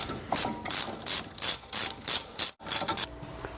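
A hand ratchet with a 14 mm socket works on brake bolts of a Mercedes during a brake service, giving repeated short clicking bursts at an even rhythm, close and fairly quiet.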